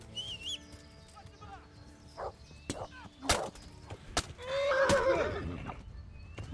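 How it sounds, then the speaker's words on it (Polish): A horse in the medieval video game Kingdom Come: Deliverance whinnies loudly in a long shaky neigh, preceded by scattered hoof clops and sharp knocks, with brief voices in the game. "Wsiądź na tego konia."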